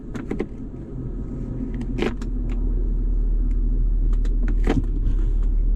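Steady low rumble of a BMW 535 running while someone tries to put it into gear, with a few sharp clicks and clunks standing out over the engine hum, which grows slightly louder.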